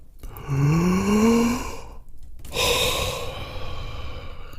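A long, close yawn with a rising voiced whine, followed after a brief pause by a breathy exhale, loud and heard alone during a choir warm-up exercise.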